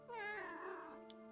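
A cartoon cat meows once in the video game A Little Lily Princess, a clear, close, drawn-out call that fades into a quiet background with no talking.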